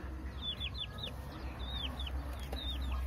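Domestic chickens kept on a small farm where red ginger is grown, several short rising clucks and calls in loose clusters, moderately close over a low steady background hum.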